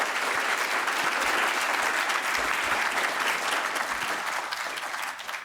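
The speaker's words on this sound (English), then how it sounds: "Let's a round of applause for Danny Rudder." A conference audience at an industrial policy event applauds a speaker, dense sustained clapping from a full room that holds steady and then begins to fade.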